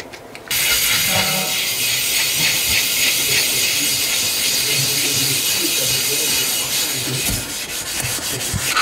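Running water pours steadily and loudly into a sink, wetting a copper pan, a continuous broadband rush that starts abruptly and keeps going.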